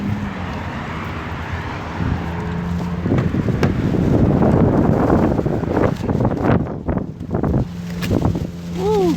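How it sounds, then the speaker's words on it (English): Gusty outdoor wind buffeting a microphone, a loud, rumbling low roar that swells and dies back over several seconds, with no speech. "Woo, it's windy out here,"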